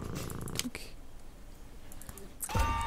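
In the video game Deponia, a cat walks across a computer keyboard, purring while scattered key clicks tap out, with a louder clatter of keys near the end.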